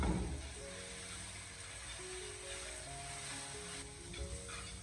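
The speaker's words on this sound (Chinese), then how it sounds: "这个调料下锅以后，我们立刻马上的将它快速的翻炒，将调料充分的翻炒均匀" Soy sauce noodles being stir-fried in a wok give off a steady, close sizzle and hiss throughout, with faint scraping of tossing under the frying noise.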